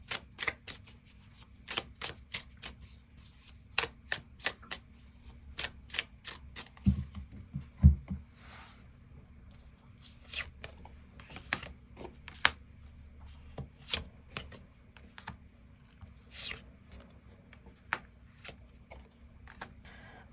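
Tarot cards shuffled by hand, a long run of quick riffling and soft slapping bursts at an uneven rhythm, close and fairly quiet with no talk.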